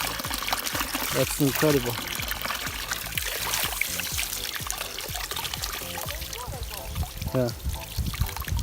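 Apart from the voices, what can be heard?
water pouring from an unplugged mountain spring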